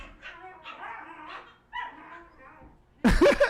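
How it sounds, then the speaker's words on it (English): Two dogs barking and yipping while they play fight indoors, a close, loud burst of barks at the end following softer whines and rustling. "They are kind of dog fighting, but they're playing really."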